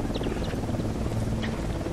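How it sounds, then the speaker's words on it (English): A helicopter in the tactical shooter Ghost Recon Wildlands gives off a continuous low rotor drone with a few faint chirping sounds on top, steady and fairly loud throughout. "That chopper, stay low."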